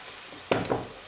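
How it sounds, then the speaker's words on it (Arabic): A pastry filling frying in a pan gives a short burst of sizzling and stirring, two quick close scrapes over a low background hiss. "غادي نخلي الكل يتشحر جيدا"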